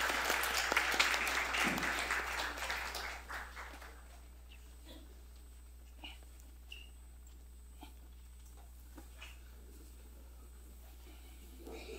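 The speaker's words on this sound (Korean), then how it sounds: "우리 다음 세대 교육자 나올 때 박수로 한번 환영해 주십시오." A church congregation at a Chuseok holiday family worship service claps loudly to welcome the next-generation educators. Applause fills the first few seconds, then fades into a quiet room with scattered small noises.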